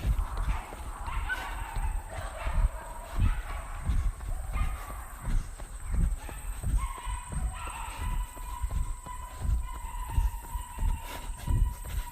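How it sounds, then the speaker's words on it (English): Several dogs at a dog daycare bark steadily in the distance, a continuous chorus of woofs over rhythmic footsteps and outdoor ambience. "Another dog daycare."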